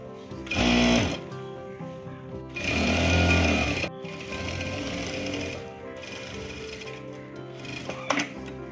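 A sewing machine stitches cigarette pant fabric in short bursts: two loud runs of rapid needle chatter, then quieter continued stitching with brief pauses, close and alone with no talking.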